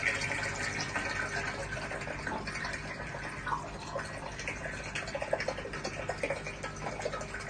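Water outflow from a DIY filter with a 45-degree elbow pouring into a tank, a continuous splashing, dripping gush heard steadily and close throughout.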